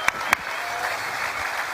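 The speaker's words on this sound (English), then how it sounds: "That was an applause moment" An audience at a Bitcoin conference breaks into applause, a dense, steady patter of many hands clapping, preceded by a couple of sharp isolated claps.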